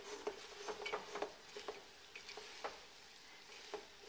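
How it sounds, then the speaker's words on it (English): Onions fry in browned butter while being stirred, a faint, steady sizzle broken by soft, irregular scrapes and taps of the spoon in the pan. "And I'm going to stir them"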